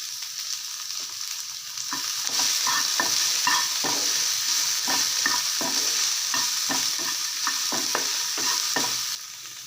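Okra and salt sautéed in a hot pan, heard as a loud continuous sizzle. Close, rhythmic stirring and scraping strokes run through the middle section.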